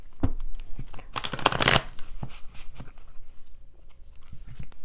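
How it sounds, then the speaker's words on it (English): Tarot cards riffled in a quick shuffle, a dense burst of papery flutter in the middle, with scattered soft card taps and handling noises before and after. "Oop, that was a terrible shuffle."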